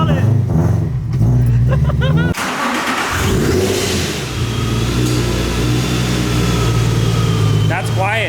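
A Toyota GT86 engine runs steadily, a loud low hum after a sharp start, with voices talking over it throughout.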